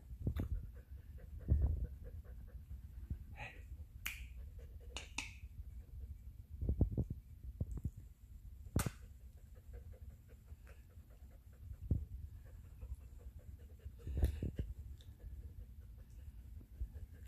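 Soft, intermittent dog panting close by, with scattered clicks and snaps and some light handling noises throughout.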